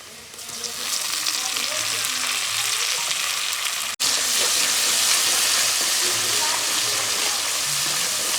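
Tomatoes dropped into a hot, salted pan for a dambha curry set off a sudden loud, roaring sizzle that holds steady and close, with one sharp momentary dropout partway through.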